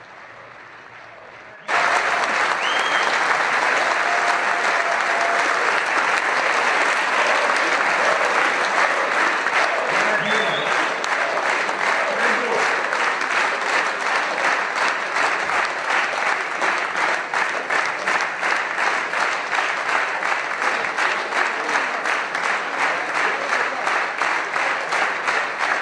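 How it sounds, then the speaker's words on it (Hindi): Sustained, dense applause fills Israel's parliament for PM Modi, starting abruptly after a brief quieter moment and continuing evenly for over twenty seconds with a large crowd clapping. "तब इजराइल की संसद में लगातार तालियां बजती रहीं"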